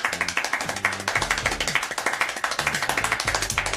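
A single person claps very fast, about 14 sharp claps per second, close and steady with no talk.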